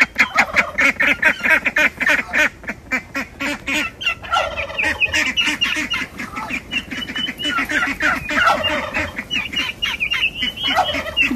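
A flock of turkeys in a netted backyard poultry pen, with ducks and chickens nearby, calls steadily at close range: a dense, rapid chatter of gobbling and clucking that overlaps continuously for several seconds, loud and busy.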